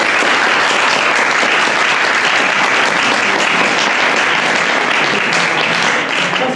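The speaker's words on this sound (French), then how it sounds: "On peut applaudir bien fort une personne qui mérite vraiment bien sa place" A large audience at an eloquence contest applauds a jury member, the loud, dense clapping sustained evenly from start to finish with no speech over it.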